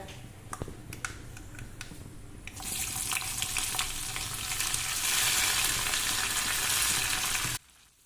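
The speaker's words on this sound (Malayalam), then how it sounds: "ഇനി കുറച്ച് കടുക് ഇടുക പിന്നെ ഒരു നാല് ചെറിയ ഉള്ളിയിട്ട് കുറച്ച് കറിവേപ്പിലും രണ്ട് കായമുളകും ഇതും കൂടി വറവിലേക്ക് ഇടാം ഇതൊന്ന് പൊട്ടട്ടെ" Mustard seeds, small shallots, curry leaves and dried chillies hitting hot coconut oil, crackling and popping faintly at first, then swelling into a loud, dense spluttering sizzle that cuts off abruptly.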